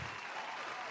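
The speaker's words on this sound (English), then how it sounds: "So round of applause for yourselves." A short, soft burst of group clapping, a brief, even patter of many hands heard alone and fairly quiet.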